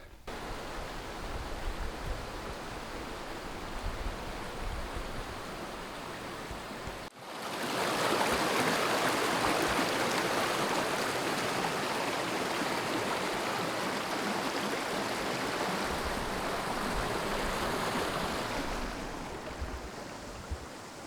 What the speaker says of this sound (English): here is the other spot where you can cross the creek